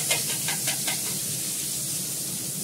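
Onion slices going into hot oil hiss and sizzle steadily, with a few quick crackling bursts at the start that settle into an even, moderately loud fry, heard alone without voices.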